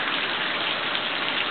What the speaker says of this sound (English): And just a little rain at the end.